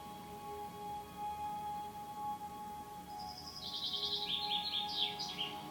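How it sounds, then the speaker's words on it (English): A bird calls partway through, a quick series of bright, high chirps that rise over a steady background hum and music, fairly faint and brief. "Yep, a bird."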